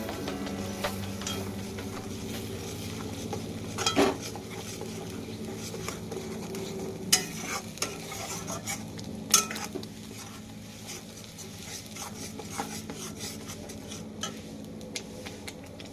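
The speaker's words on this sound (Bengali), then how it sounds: "আমি পেস্ট করা মশলাটা দিয়ে দিলাম, একটু নেড়ে নিব।" Spice paste is stirred with potatoes and pointed gourd in a pan, a low steady sizzle broken by repeated scraping strokes and sharp clinks of a spoon against metal, close-up with no talking.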